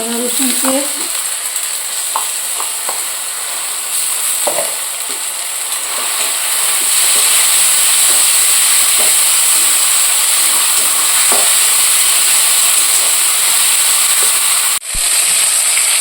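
Ginger garlic paste fries with onions in a pan, giving a loud, continuous close-up sizzle that hisses steadily, with a few faint clinks early on and a brief dip near the end.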